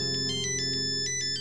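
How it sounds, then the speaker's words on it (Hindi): A mobile phone rings with an incoming call: a loud electronic ringtone of short repeated bright pulses in a steady rhythm over a sustained tonal bed, with no talking. "अरे यार, फोन आ गया उसका।"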